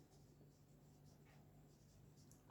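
A pen writes a sentence by hand at close range, faint scratchy strokes in a quiet room, ending with a brief louder tap.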